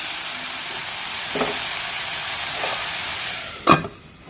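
A tomato masala sautés in a covered pan for a fish pollichathu, giving a steady, even sizzling hiss close by with a few faint scrapes and one sharp clatter near the end, and no voices.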